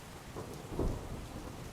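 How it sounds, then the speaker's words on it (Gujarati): Heavy downpour over Rajkot city streets during a storm, a steady broadband wash of rain with a louder rumbling surge near the middle, continuous and fairly close, with no voices. "રાજકોટમાં પણ ધોધમાર વરસાદ વરસ્યો છે"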